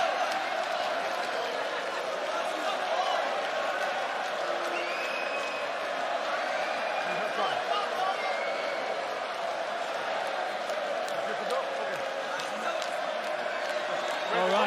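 Sold-out Coca-Cola Arena crowd at a Usman Nurmagomedov vs Paul Hughes fight, a steady roar of murmur and scattered cheering that holds evenly throughout, with commentary voices talking over it.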